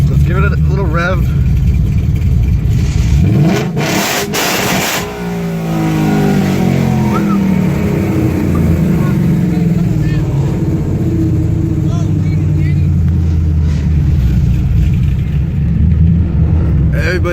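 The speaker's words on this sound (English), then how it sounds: "let's give it a little rev" At a busy outdoor car meet, a car engine rumbles and then bursts into a loud rev that winds back down, amid a constant background of other engines and people talking.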